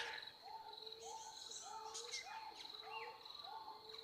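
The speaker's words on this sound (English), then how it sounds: "the bird song begins again" Birdsong repeats in a steady rhythm of chirps and whistles, faint and somewhat distant, with insect-like background hiss and no talk.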